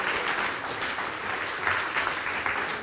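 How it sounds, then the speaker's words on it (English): An audience at a lecture on whether the East is taking over the world breaks into a steady round of applause for a volunteer called up on stage, dense and sustained without speech. "A big round of applause,"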